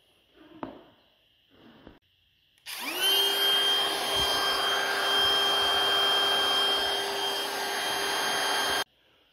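A wood router cuts a lock recess in wood, starting after a few faint knocks and then holding a loud, steady high-pitched whine for about six seconds before stopping abruptly.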